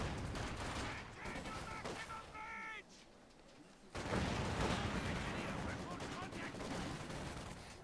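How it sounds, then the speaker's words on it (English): Mortar and machine gun fire in the real-time strategy game Company of Heroes 2, a busy battlefield of rapid bursts and thuds, faint under a talking caster, with a brief lull before heavier firing resumes. "Mortar and MG setting up, suppressing some Grenadiers."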